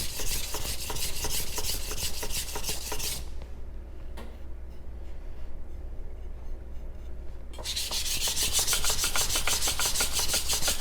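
A knife blade is drawn over a sharpening stone in steady, rapid raspy strokes, close and fairly loud, with a quieter pause in the middle before the scraping resumes.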